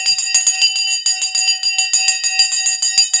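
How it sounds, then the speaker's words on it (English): A handheld bell, rung to open the stock market during a live trading broadcast, clangs in rapid, continuous strikes with a bright, ringing metallic tone, loud and close with no talk. "Let's ring the bell in 5, 4, 3, 2, 1."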